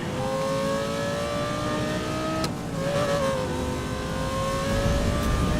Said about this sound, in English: This engine sound. All the engine sounds in this game are... they're spectacular.